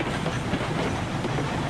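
A 15-car heavy train in the Railroads Online game rolls steadily with a constant rumble and clickety-clack of wheels, loud and continuous with no talk.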